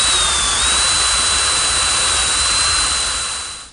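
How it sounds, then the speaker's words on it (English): Loud, continuous high-pitched whine of a power drill boring holes into wood, running steadily for several seconds before winding down at the end. "Now I want to drill some holes in each corner for these leveling screws."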